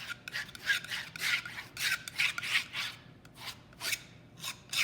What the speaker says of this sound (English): You can scrape, you can smush, go back in, add a little bit more white